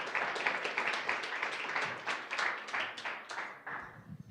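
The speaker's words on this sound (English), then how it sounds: "let's give everyone a round of applause." An audience at a startup showcase claps together in sustained applause, a dense patter of many hands that fades slightly at the end.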